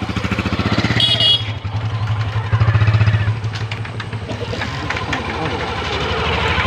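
A motorbike engine runs steadily near a riverside jetty in the Sundarbans, with a low, continuous rumble throughout and faint voices nearby.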